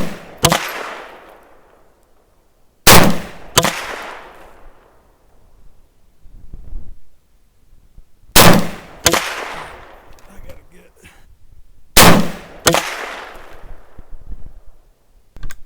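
A 7.62x39 AR pistol fires loud, close, sharp shots, mostly in quick pairs separated by pauses of a few seconds, each followed by a brief echoing tail across the outdoor range.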